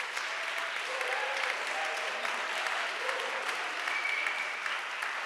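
Audience applauding and cheering for the panelists after a journalism discussion: dense, sustained clapping from a full room, steady and fairly loud throughout, with scattered whoops mixed into the crowd noise.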